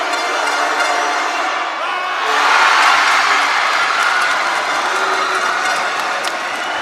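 Basketball arena crowd at a PSU finals game reacting to a player: a steady broad roar that swells louder in the middle and holds at a continuous mass of voices, with a commentator talking over it.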